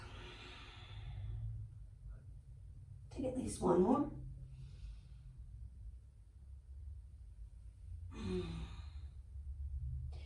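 Deep audible exhalations during a yoga core flow, two long sighing breaths spaced several seconds apart over a quiet background, with a brief spoken instruction.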